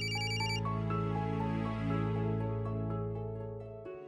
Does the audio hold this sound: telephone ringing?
yes